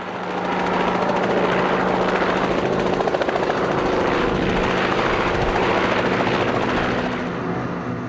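A 50-year-old Bristol Type 171 Sycamore helicopter runs loud and close, its engine droning steadily under the rapid thudding of the rotor blades, fading slightly at the end.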